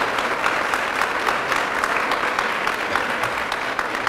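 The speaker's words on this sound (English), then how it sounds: "Let's give the students and staff a big round of applause." An audience at a school watershed report card event gives students and staff a big round of applause, dense sustained clapping filling the room at a steady level.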